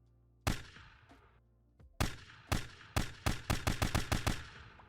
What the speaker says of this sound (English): It's on semi-auto. You see we can shoot a bullet.